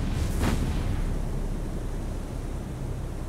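A ship's magazine exploding in the naval video game War on the Sea, a heavy boom followed by a sustained low roaring rumble that fades slowly.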